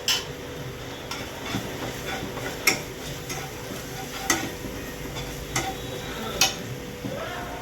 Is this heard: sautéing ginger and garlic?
yes